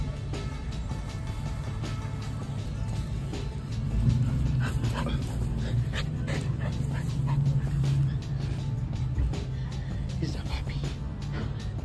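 A Cane Corso puppy whimpers and gives small yips and barks outdoors, close and intermittent over a rustling background, with a person speaking softly at times.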